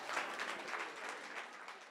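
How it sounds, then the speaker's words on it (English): Guests at a wedding toast break into a brief, dense round of clapping, steady and fairly faint, with no voices over it. "give it up for him. Round of applause."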